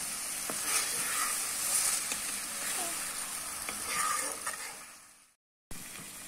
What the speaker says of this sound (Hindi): आलू भी डाल देंगे जो हमने तल के रखे थे इन्हें भी हमें मसाले के साथ अच्छे से भून देना है